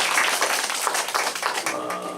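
Members of a church congregation clap together to welcome a newcomer during a Sunday service, a brief burst of moderate, dense hand claps filling the room with no voices over it.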